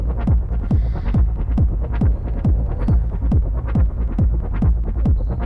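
A distorted, resonant synthesizer pulsing in a fast, steady rhythm, each hit a punchy low thump with a bright, gritty edge.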